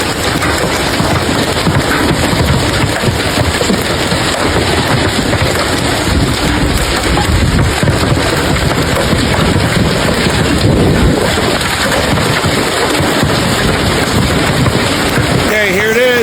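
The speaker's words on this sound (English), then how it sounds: "Look at this hail. This is bigger than a quarter." A golf-ball-size hailstorm in Ohio pounds down in a loud, continuous roar of hail and rain with wind buffeting the microphone, steady and close throughout.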